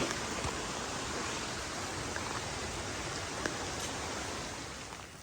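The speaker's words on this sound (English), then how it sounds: "it decided to rain harder" Rain falls steadily on a hiking trail, a soft even hiss with occasional faint drop ticks, moderately quiet and continuous.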